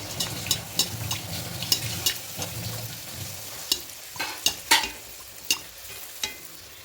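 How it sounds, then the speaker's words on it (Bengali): Milk-powder kachori fry in white oil in a kadai, a soft sizzle under a series of sharp, irregular clicks and taps from stirring and turning them. "এভাবে প্রত্যেকটা ভেজে নেব"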